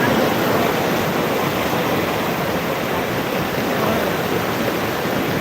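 Floodwater rushes in a steady, loud, unbroken roar with no clear pauses. It sounds near and continuous.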